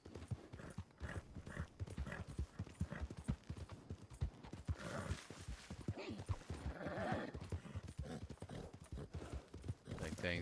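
A horse gallops in the video game Red Dead Online, with rapid rhythmic hoofbeats pounding steadily throughout while someone talks over them.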